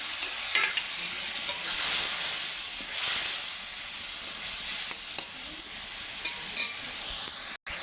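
Koi fish fry in spice paste with a little water, giving a loud, close, hissing sizzle with steamy bursts and occasional stirring scrapes throughout.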